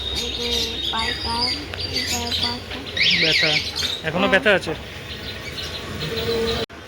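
Many caged birds chirp and squawk at a bird shop, a dense layer of rapid high tweets and trills throughout, loud and close, while people talk over them.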